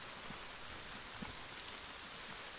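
Rain falls steadily in the military video game ArmA, a soft, even hiss of rainfall with faint scattered drops, heard alone and fairly quietly.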